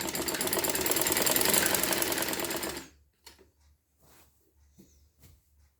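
A sewing machine runs steadily for about three seconds, stitching the folded side slit of a kurti, a dense continuous whirr, then stops, leaving only faint handling sounds.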